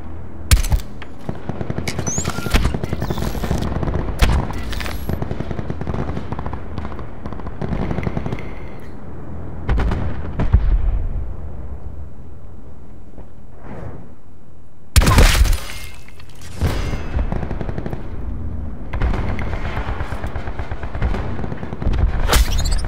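Grav rifle gunfire in Black Ops 4 on the Remnant map during team deathmatch: loud, close bursts of rapid shots with heavy booms and shattering impacts. Quieter gaps fall between the volleys.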